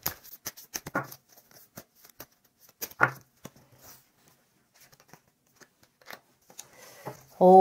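Tarot cards are drawn one by one in a quiet room, making sparse close clicks and papery slides separated by near silence, ending with a brief louder thump.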